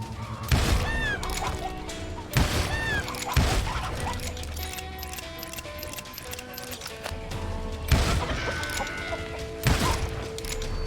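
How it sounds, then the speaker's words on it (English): Chickens cluck and squawk repeatedly in the Western shooter game Call of Juarez: Gunslinger, with sharp gunshot bursts cracking in between over a steady background. "kill all the chickens again"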